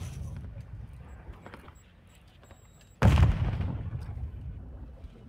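Gunfire in a shooter video game: after a stretch of low background noise, a single loud, close blast hits and fades out slowly.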